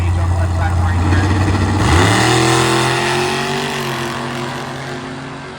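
A Chevrolet Blazer launches off the line at a drag race, its engine note climbing sharply from a low idle rumble into a loud rising wail that holds steady and slowly fades, while an announcer talks over it.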